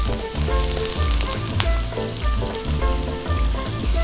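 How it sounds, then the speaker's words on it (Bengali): Chicken pieces dropped into a pan of frying onions for a Bengali chicken surua, sizzling loudly and steadily with stirring scrapes throughout, no talking. "পেঁয়াজটা নাড়াচাড়া করে আমি মাংসগুলো দিয়ে দিচ্ছি"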